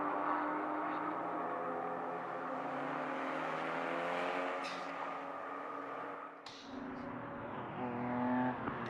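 Race cars in a Ferdinand Cup race at the Le Castellet circuit, two blue cars flanking a yellow one, give a steady droning engine roar whose pitch shifts as they accelerate and pass, fairly distant and alone.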